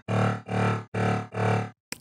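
A harsh, metallic dubstep synth run through a phaser effect plays four sustained, distorted notes in even rhythm, loud and dense, with a short burst at the end and no talk.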